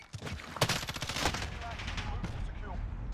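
Video game firefight in a shoothouse map: a sharp frag grenade blast followed by rapid bursts of automatic gunfire, loud and dense throughout the short stretch.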